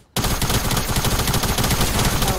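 Automatic gunfire in Fortnite, a rapid, loud, continuous burst of shots that starts abruptly after a split second of quiet and keeps spraying to the end.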